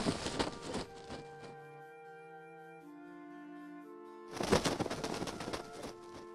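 A rough, aggressive bird in the Japanese video game Toki no Kizuna (Demons' Bond) lets out a few loud, harsh bursts of cries, with a quieter sustained tonal passage between them and no talking.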